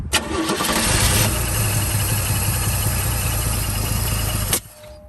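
A 1969 Camaro under restoration after a garage fire turns over and catches, then runs at a loud, steady, rumbling idle for several seconds before cutting off abruptly.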